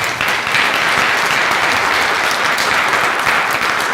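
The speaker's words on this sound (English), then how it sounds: "can our audience give a round of applause?" Sustained, dense applause from a large audience at a neighborhood council forum on affordable housing and homelessness in Los Angeles, a loud continuous wash of clapping throughout.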